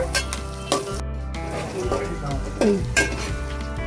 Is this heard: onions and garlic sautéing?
yes